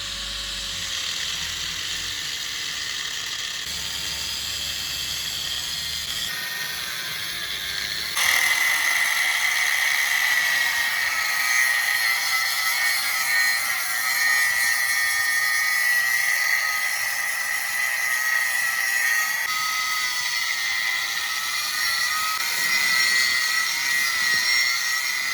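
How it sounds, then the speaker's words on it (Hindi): A small angle grinder cuts into the steel shell of a refrigerator compressor, giving a steady, loud high-pitched whine with grinding rasp that continues without pause and grows harsher partway through. "ये हमारा बेबी ग्राइंडर, इसकी मदद से अभी इसको हम काटेंगे, काट के देखेंगे कि इसके अंदर क्या क्या होता है।"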